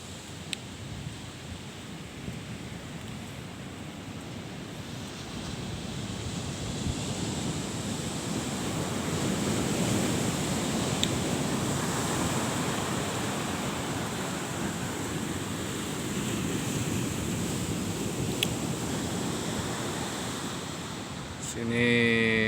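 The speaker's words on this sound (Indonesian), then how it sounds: "Inilah yang dinamakan pantai Pasir Tinggi." Ocean waves break on Pasir Tinggi beach near Sinabang, Aceh, a continuous washing roar that swells and recedes with wind noise on the microphone, loud and close.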